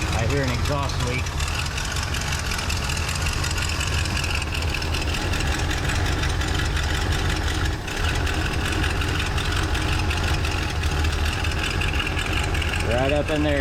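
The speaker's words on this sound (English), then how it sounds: "I hear an exhaust leak." A car engine with a carburetor issue and an exhaust leak idles steadily up close, a constant low rumble with a ticking, knocking edge, while people talk over it.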